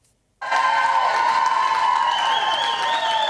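A large welcoming crowd applauds a returning world-champion softball team, sustained dense clapping starting abruptly and carrying on strongly, with a faint whistle or cheer rising toward the end.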